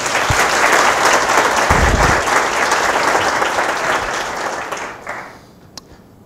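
Lecture-hall audience applause welcoming Dr. George Stilwell to a university talk on animal welfare and profitable farming, steady dense clapping that tapers off and stops near the end.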